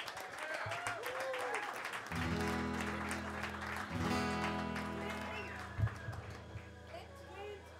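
Audience applause at a First Friday live music night, a steady wash of clapping and crowd noise that runs through the clip, with low sustained instrument tones joining partway in and voices mixed through.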